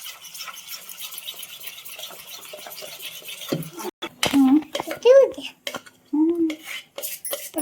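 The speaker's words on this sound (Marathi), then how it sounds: "सोडा टाकल्यानंतर चांगलं आता मिक्स करायचं" Dhokla batter with baking soda being mixed in a bowl: a steady, soft scraping and stirring for a few seconds, then voices talk over a few closer clinks and stirs.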